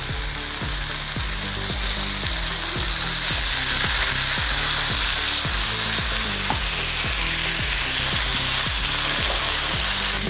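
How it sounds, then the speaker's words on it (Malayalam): Tandoori chicken chars in hot oil in a pan, a loud continuous sizzle and fry with a regular pulsing scrape or stir repeating through, close up and without voices. "തന്തൂരി ചിക്കൻ കരിഞ്ഞിട്ട് കാണണം, അതാ മെയിൻ. അപ്പോൾ നമുക്കൊന്ന് കരിച്ചെടുക്കാം."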